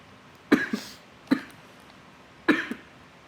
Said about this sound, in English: If you're not coughing, you're not smoking.